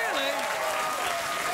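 A late-night talk show studio audience applauds steadily, a dense wash of clapping that holds through the whole moment while a voice carries faintly over it.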